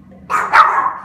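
A Yorkshire terrier barks indoors at dogs on a television, letting out two quick, sharp, close yaps that run into each other after a moment of quiet.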